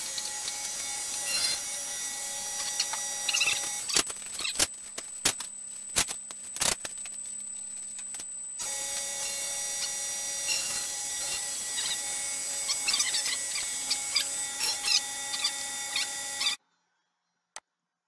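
A Makerverse CNC machine cuts during a calibration run, giving a steady grinding and whirring with scattered sharp knocks, ending abruptly in silence near the end.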